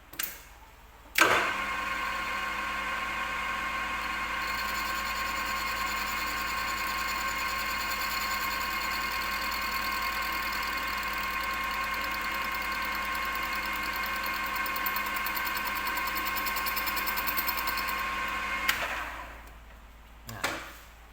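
A lathe machining the gasket off an engine cylinder block starts up, runs with a loud steady mechanical hum and whine for about seventeen seconds, then spins down to a stop, with no talking.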